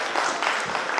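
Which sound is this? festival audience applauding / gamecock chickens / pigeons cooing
festival audience applauding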